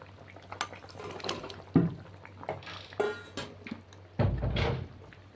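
Fish curry simmers in a pot with whole green chillies added to the broth, giving soft, irregular bubbling and liquid movement punctuated by a few louder knocks, fairly quiet and close.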